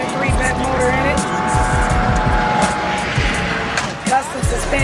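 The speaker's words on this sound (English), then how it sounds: "It's a 66 Caprice. Had an LS1 2003 bent motor in it." A 1966 Chevrolet Caprice lowrider with a 2003 LS1 engine, custom hydraulic suspension and disc brakes, loud engine revving with rising and falling roars, tire squeal and skidding, over people talking nearby.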